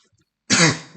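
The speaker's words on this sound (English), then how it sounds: "I seem to have a little bit of a cough." A single short cough or throat clearing breaks a near-silent pause, close and fairly loud, lasting about half a second.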